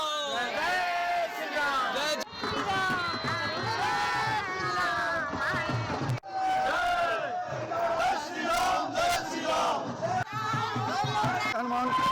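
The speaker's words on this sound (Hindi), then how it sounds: "पूरे नगर में जय श्री राम की जयकारे से पूरा नगर क्षेत्र" A dense crowd at an Akshat Kalash procession in a town chants Jai Shri Ram, with loud massed voices rising in rhythmic waves that continue across the whole stretch, broken by brief pauses.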